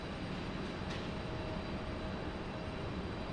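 An American Boeing 737 airliner rotating on takeoff at Raleigh Durham International Airport: a loud, steady, broadband engine roar with no breaks, heard from a distance.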